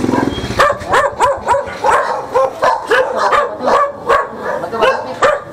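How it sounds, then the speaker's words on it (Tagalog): Several dogs bark in quick, repeated bursts, some high and yippy, close by and overlapping, with a little whimpering mixed in. "Dami aso."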